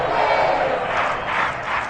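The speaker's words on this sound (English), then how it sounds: "How about some applause for the defense there?" A crowd roars and cheers continuously in the Madden 22 American football video game, a broad wash of many voices swelling and dipping without clear claps.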